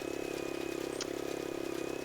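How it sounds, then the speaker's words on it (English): A tiny tractor strains uphill while pulling a baler in Farming Simulator 22, its engine a steady, low, faint drone with a fast, regular throb throughout. "it's going uphill and that's a little hard for this tiny tractor to pull a baler like this"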